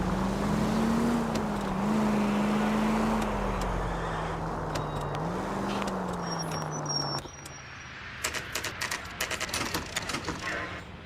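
Car engine from the L.A. Noire video game, a steady droning hum with a shifting pitch, changing character partway through into rougher road noise with clicking rattles near the end.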